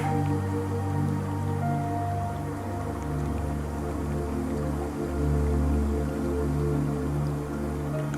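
Steady flowing water runs continuously beneath a low droning hum during a morning meditation, with drip-like textures on top and no talk.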